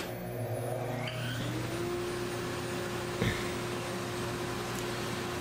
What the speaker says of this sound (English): The router starts, and the spindle starts spinning up